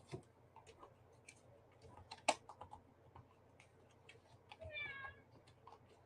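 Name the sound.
pet cat meowing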